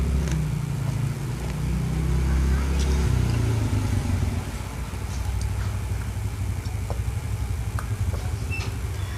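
Motorcycles and other road traffic pass close to a roadside house, a steady rumble of engines that swells and fades as vehicles go by.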